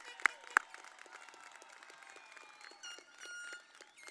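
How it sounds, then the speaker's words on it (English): Graduation ceremony audience at Falfurrias High School in Texas applauds the graduates, a fairly faint, steady patter of clapping in a large space, with two sharp louder claps near the start. "Let's give them another round of applause."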